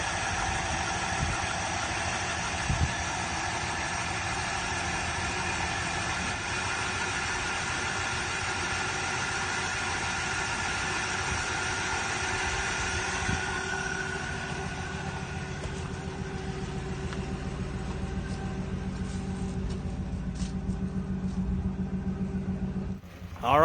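A 1966 Chevy Impala V8 with a newly replaced fuel pump idles quietly and steadily, a low even rumble with faint mechanical ticking that continues throughout, with no talking.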